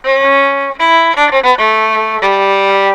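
A bright, sustained fiddle-like melody phrase in a Scottish style played alone, several notes with quick short ornaments in the middle, a slightly lengthened sixteenth note, and a held final note.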